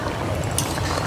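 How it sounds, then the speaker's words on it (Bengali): Garam masala paste mixed with water being poured into a bubbling duck egg curry, a short wet liquid splash over steady sizzling and simmering. "এখন আমি দিয়ে দিচ্ছি গরম মশলা বাটা, জল দিয়ে গুলিয়ে নিয়েছি।"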